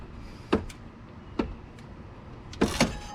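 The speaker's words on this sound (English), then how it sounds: "Slide our belt off our alternator." A drive belt is worked off the alternator pulley on a 2003 Hemi Ram pickup with over 415,000 miles, giving a few sharp clicks and knocks spread across a few seconds over a low background hum.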